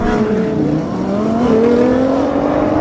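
Three high-performance cars in a drag race, a Lamborghini Huracán Performante, Audi R8 and Nissan GT-R, launch and accelerate hard together, a loud, continuous engine roar rising in pitch through the gears, with no talking.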